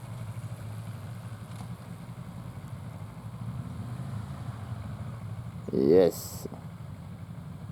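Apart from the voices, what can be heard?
motorcycle engine idling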